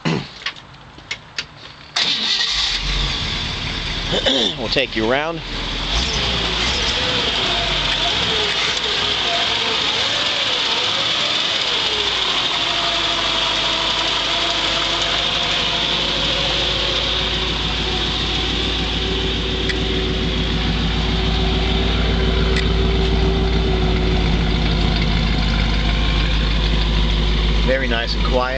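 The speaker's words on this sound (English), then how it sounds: "Now, what I want you to do, I want to start the car." A rotisserie-restored 1955 Chevrolet Bel Air convertible cranks and fires up, then settles into a smooth, quiet idle with correct mufflers that holds for the rest of the clip, while someone talks over the start.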